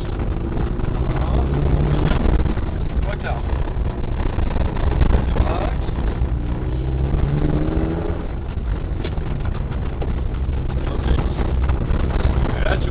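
Peugeot 206 Group N rally car engine revving and accelerating on a rally stage, a steady loud drone with wind rush throughout the clip, and a co-driver's voice calling pace notes over it.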